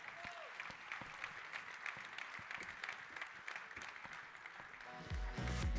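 A conference audience applauds as panel speakers, including a government minister, are welcomed onto the stage. The dense clapping is steady and moderately loud throughout, with a brief voice and a louder burst of sound near the end.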